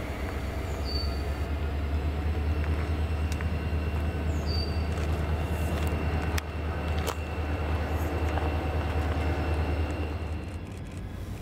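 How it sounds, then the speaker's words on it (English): Norfolk Southern freight train led by Conrail locomotives rolling slowly past into a rail yard, a continuous low rumble with clanking wheels and faint metallic squeals. "allowing for one more roll-by of our train as they enter the yard"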